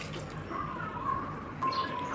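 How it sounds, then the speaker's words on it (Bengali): Hot water poured into a thin curry of country chicken and potatoes, heard as a steady close trickle and splash of liquid lasting the whole moment, with a brief stronger gush near the end. "দিয়ে দেব সামান্য গরম পানি"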